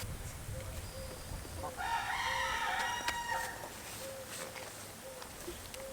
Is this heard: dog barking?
no